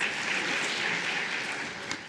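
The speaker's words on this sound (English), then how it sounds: "So let's give another round of applause." Audience at a legal tech event claps for a speaker, a dense, steady wash of applause that tapers slightly toward the end.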